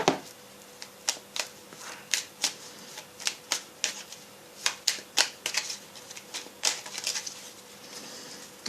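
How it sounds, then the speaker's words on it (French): Cards from a small Kuan Yin oracle deck being handled and drawn, a run of crisp, close taps and flicks in an uneven rhythm with brief shuffling riffles, no talk. "je vais commencer en prenant une petite carte du petit oracle de Kuan Yin"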